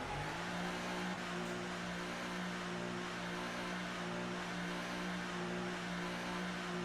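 Race car engine in the F1 2018 video game, a steady, faint, buzzing drone at constant pitch that holds evenly throughout with no talking.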